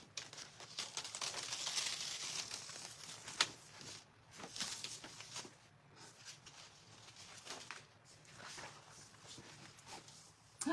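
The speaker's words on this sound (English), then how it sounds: "I'm going to peel it just like I would peel it if it was on a surface that I had down" A gingerbread sign stencil transfer is peeled straight up off its surface, giving a close, continuous crinkling and crackling with soft tearing and papery rustles that ebb and swell.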